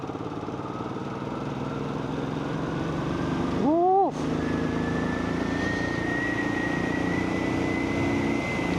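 A loud Royal Enfield Classic 500 (2018) motorcycle engine drones steadily throughout, with a brief revving rise partway through before settling back into a constant rumble.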